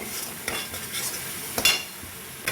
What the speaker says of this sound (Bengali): এইভাবে হালকা জল দিয়ে মশলা কষালে টেস্টটা দারুণ হয়